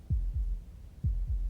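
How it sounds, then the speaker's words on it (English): A heavy heartbeat thuds in pairs, two lub-dub beats in Slay the Princess, low and close with a faint droning hum beneath, no talking. "That was the sound of a heartbeat,"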